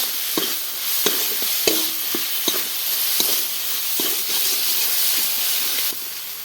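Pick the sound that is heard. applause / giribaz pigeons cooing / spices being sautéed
spices being sautéed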